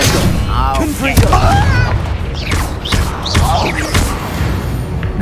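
Confringo, a fire blast spell in Hogwarts Legacy, explodes as a series of sharp booms and crackling blasts layered over continuous game sound, with voices talking throughout.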